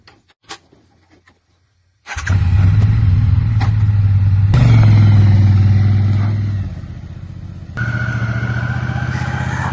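A Triumph Bonneville T100 motorcycle starts up after a few faint knocks, then its engine rumbles loud and near, revs up, and settles into a steady run as it rides off.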